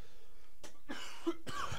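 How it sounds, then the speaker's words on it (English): Two sharp coughs in quick succession, close and fairly loud, over a quiet background with no talking. "Gosh, can't stop coughing."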